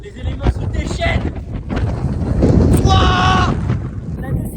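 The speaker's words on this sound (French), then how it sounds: "le vent était extrêmement fort" Very strong wind gusting across an Icelandic glacier, a loud, steady roar and buffeting on the microphone that swells toward the middle, with people's voices and exclamations over it.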